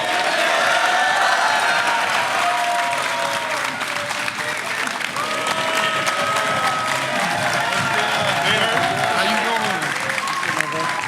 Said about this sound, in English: Can we get him a round of applause